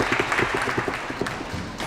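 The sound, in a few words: crowd applause at a squash match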